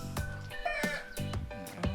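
Dominant CZ parent-stock chickens in a breeding pen on a Cebu farm give short, repeated clucks and calls in quick succession, fairly close and clear.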